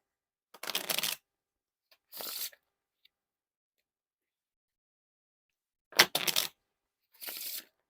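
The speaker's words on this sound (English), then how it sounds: "Now to test a riffle shuffle or a bridge shuffle." Playing cards from a Starry Night Puzzle deck being riffle shuffled in four quick bursts of crisp fluttering, close by, with pauses of silence between.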